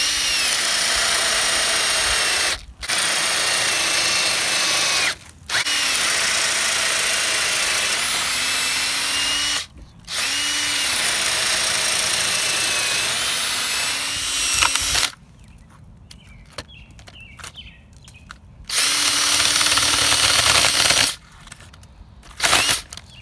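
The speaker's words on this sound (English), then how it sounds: "So the current plan is to use this 1-inch paddle and try to create the hole that I need over here" A drill with a 1-inch paddle bit bores into rough cut wood for a split rail fence, running loud and steady in long stretches broken by short pauses. A quieter gap is followed by a final burst of drilling.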